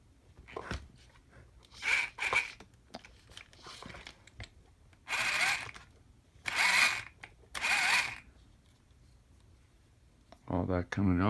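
A power tool whirs in several short bursts of a few seconds each while stripping excess grease from a Redcat Gen 8 Axe RC car differential, up close, with quieter handling noises and clicks between bursts.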